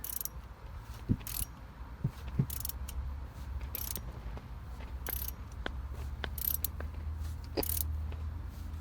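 A ratchet wrench tightens a bolt during a timing chain repair on a 2006 GMC Canyon 2.8L four-cylinder 4WD truck engine, giving repeated sharp metallic clicks in irregular bursts over a steady low background, fairly quiet and close.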